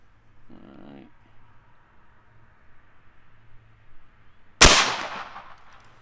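A single sharp, loud crack from a Seneca Dragon Claw dual-tank .50 caliber airgun rings out near the end, with a short ringing decay, after quiet outdoor background and a brief murmur.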